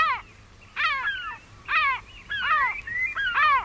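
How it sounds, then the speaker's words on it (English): A herring gull gives a run of about five loud, harsh, descending calls in a steady rhythm, close and clear with no other sounds. "And there's the gull, of course."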